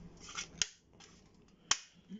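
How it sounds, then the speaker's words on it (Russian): A plastic mount snapping into place on the back of a Ubiquiti LiteBeam M5 antenna reflector gives two sharp, distinct clicks about a second apart over faint handling noise. "Обязательно должно все защелкнуться, слышали щелчки."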